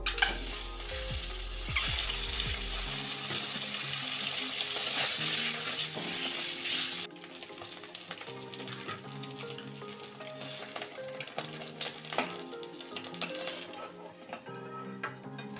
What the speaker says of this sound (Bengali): এবার নুন হলুদ মাখানো ডিমগুলো